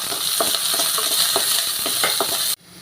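Chopped ginger and garlic sizzle steadily in hot oil in a pan for an egg curry, with repeated scraping stirs of a spoon through the mixture before the sound cuts off abruptly near the end.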